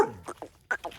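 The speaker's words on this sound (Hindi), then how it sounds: "ये इंडोनेशिया में फर्स्ट टाइम मैंने कुत्ता देखा है जो कि भौंक रहा है" A dog on a goat farm in Indonesia barking in a few quick, close yelps within about a second, with no talk over them.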